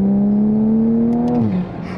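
A Toyota A90 Supra engine holds a steady, loud mid-pitched drone that climbs slightly, then drops away as the revs fall, heard close up with no talking.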